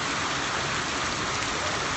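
Rain falls steadily in Johannesburg, South Africa, during a drought: a dense, continuous close-up hiss with no pauses and no voices.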